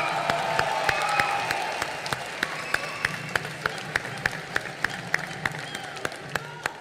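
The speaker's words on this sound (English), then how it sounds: "Round of applause for Chiranjeevi sir," Crowd at a Goa event applauds for Chiranjeevi, a broad wash of clapping and cheering that swells early and then thins into a steady run of sharp, evenly spaced claps.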